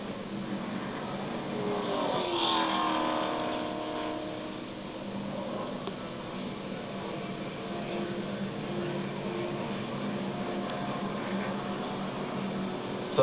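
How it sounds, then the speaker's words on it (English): A NASCAR race car runs on the track at the Amp Energy 500, its engine a steady, fairly distant drone that swells briefly and then holds, with no talk over it. "Kevin Harvick has pulled his car away"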